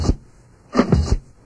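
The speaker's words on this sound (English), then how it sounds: "there's a drum, percussive drum beat sound" Snare and bass drum hits scratched from a vinyl record on a turntable, three short percussive bursts in quick succession, close and punchy.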